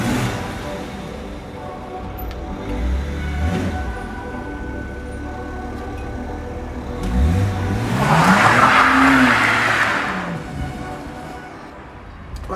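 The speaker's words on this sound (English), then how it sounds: "Let's get in the car, head down to the garage" A BMW E92 325i driving on the road, with continuous engine and tire noise, rising and falling tones as it changes speed, and a louder stretch of road roar partway through, with no talking.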